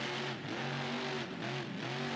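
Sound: car engine revving in video game BeamNG.drive

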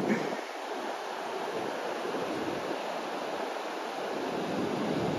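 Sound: sea waves on the East Lothian coast

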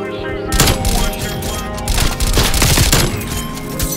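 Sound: gunfire from a gun in a video game

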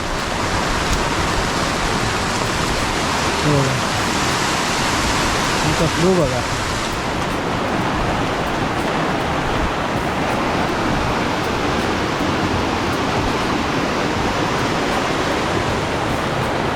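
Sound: flooded river water rushing after heavy rain in Konkan

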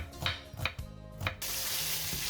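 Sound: liver and onions frying in butter in a pan

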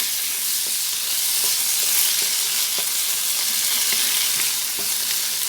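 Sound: stir-frying bitter melon with egg in a pan

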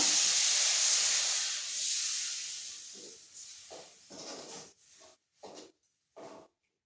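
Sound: vinegar poured into hot fish pickle mixture, hissing

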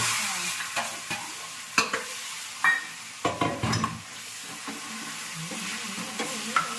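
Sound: tempering sizzling in pan for pav bhaji

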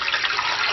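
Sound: water poured into pot with chicken bones

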